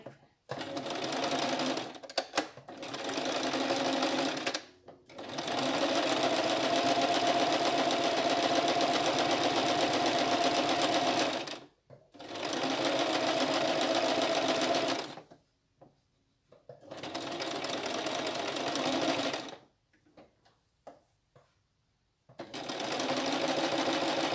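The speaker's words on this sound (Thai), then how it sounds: "ทีนี้เราก็จะมาเย็บที่เก็บริมหัวกับท้าย" A sewing machine stitches the top and bottom hem edges of a washable cloth face mask in a steady, fast whirring hum. It runs in several long bursts separated by short pauses, and it is close and clear.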